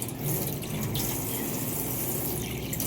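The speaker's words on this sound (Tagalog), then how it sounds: "Lagyan lang natin ng tubig." Water is poured onto cat grass seeds, making a steady, close splashing rush that runs unbroken for about three seconds with no talking.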